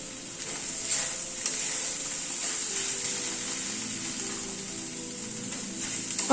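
Mashed boiled potato frying in a pan with a chicken stuffing mixture for stuffed teasel gourd, a steady close sizzle with occasional stirring scrapes, no talking.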